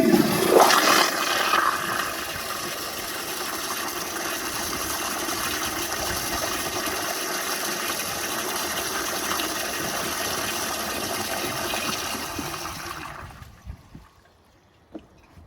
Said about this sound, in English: Alright, I'm gonna give this beauty a flush.